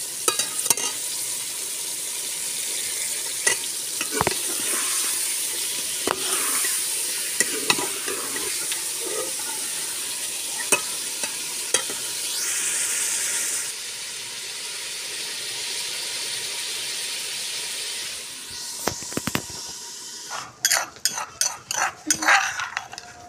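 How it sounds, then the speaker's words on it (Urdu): Meat frying in a pan at home, a steady close sizzle broken by sharp spoon clinks and stirring knocks, ending in a burst of rapid clattering strikes. "ابھی ہمارا گوشت بھی فرائی ہو چکا ہے"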